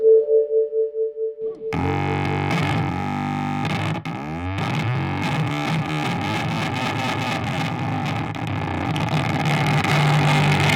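A pulsing guitar tone gives way to a frozen, endlessly sustained drone, with layered notes swelling and shimmering on top, loud and close.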